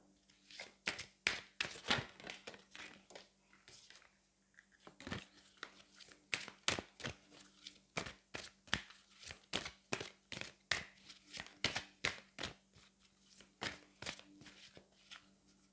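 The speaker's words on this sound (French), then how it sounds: "Allez, on va aller prendre une carte des anges." Angel oracle cards being shuffled by hand, a long run of crisp riffling slaps and flutters in quick bursts, close and steady throughout with only brief pauses.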